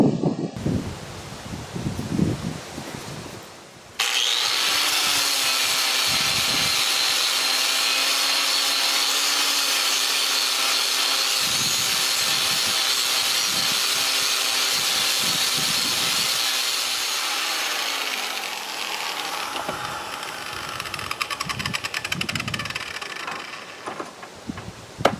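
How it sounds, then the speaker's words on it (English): A wire brush wheel polishing the rusty end of a steel shaft for a homemade three-point cultipacker: a loud, steady motor whine starts abruptly and runs about fifteen seconds, then winds down amid scattered handling knocks. "So I'll get out my wheel with my wire brush, and we'll polish that end up"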